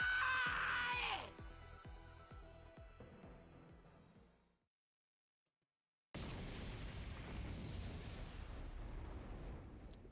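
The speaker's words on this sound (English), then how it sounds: "there was a large explosion and undying flames engulfed the entire area." A large explosion in the video game The Hundred Line: Last Defense Academy, heard as a loud burst with a roaring wash of noise after a stretch of rhythmic game music and a brief silence.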